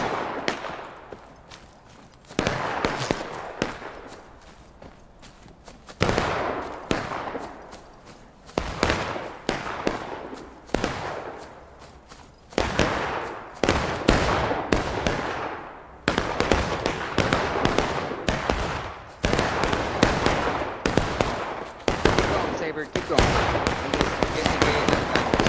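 Musket volleys crackle across a Civil War video game battle at Pickett's Charge, bursts of many overlapping shots coming in waves with brief lulls between, loud and near, with a voice issuing orders at times.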